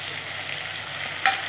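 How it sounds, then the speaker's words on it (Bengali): Chopped onions fry in a hot pan for a chicken curry with papaya and potatoes, giving a steady, close sizzle with a brief sharper crackle near the end. "পেঁয়াজটা লাল লাল করে ভেজবো"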